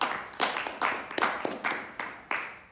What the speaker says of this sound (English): give Landon a round of applause